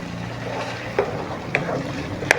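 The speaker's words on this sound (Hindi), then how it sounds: "इसको थोड़ा सा भूनेंगे" Turnip curry masala with yogurt frying in ghee, a low steady sizzle with stirring and a few sharp spoon clinks against the pot.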